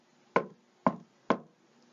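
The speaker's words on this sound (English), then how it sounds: "He knocked at the door" Three sharp knocks on a door, evenly spaced and close, each a crisp hollow thud with a short decay, alone in silence.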